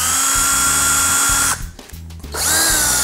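A power drill spinning a drill bit, with a loud high whine that runs steadily, stops briefly for about a second, then spins up again.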